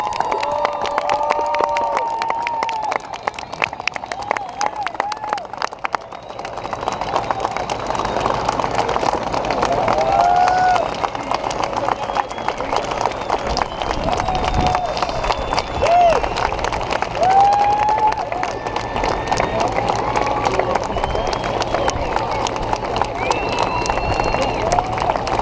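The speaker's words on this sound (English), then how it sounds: "Let's give them a round of applause." An audience at the Aberdeen Test Center centennial demonstration claps and cheers for the system operators. The applause is loud and sustained, with excited voices and crowd babble mixed in and whistles or shouts rising above it.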